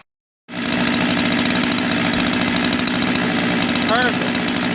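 A Husqvarna 385XP chainsaw engine, just rebuilt with new bearings, catches after a moment of silence and settles into a loud, steady, close idle that carries on with no break.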